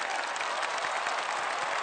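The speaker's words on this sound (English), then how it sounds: "Then came another triumphous round of applause." A crowd applauds in a video game, a dense steady wash of clapping holding at even volume for the whole short stretch, with no voices standing out.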